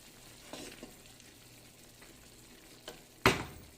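Heavy cream is poured into a sizzling pan of creamy chicken pastel, giving a quiet steady fry that swells into a louder burst of sizzling near the end, with a few soft clinks earlier and no talking.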